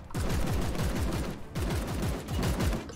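Sustained enemy gunfire in the turn-based strategy game Warhammer 40,000: Chaos Gate - Daemonhunters, loud and dense rapid bursts of shots and impacts with a brief break partway through, no voices.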